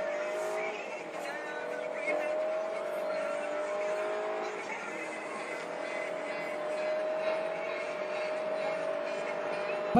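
A Hyundai Sonata with nearly 200 horsepower accelerates from 0 to 100 km/h, its engine note rising in a steady, strained whine as the revs climb, loud and close throughout the run, with a voice heard faintly underneath.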